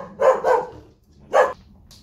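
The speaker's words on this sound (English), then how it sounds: "Dog started going off." A dog barks indoors at a vape shop counter as a customer walks in, giving two quick barks and then, after a short pause, a third, each fairly loud and near, with no talking.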